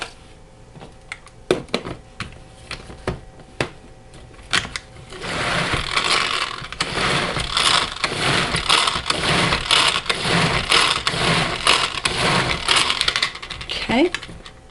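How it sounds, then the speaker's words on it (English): Cheesecake filling for a cranberry cheesecake being mixed with sugar-free pudding: a few scattered clicks and knocks give way to a loud, steady whirring mixing noise that runs continuously to the end. "now we're going to mix it up really well."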